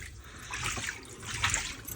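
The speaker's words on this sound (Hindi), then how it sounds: "यहाँ से सुराख से देखिए निकलता जा रहा पानी" Dirty rainwater draining out through a hole in a horse's hoof, a steady close trickling and splashing flow with brief louder gushes, no talking.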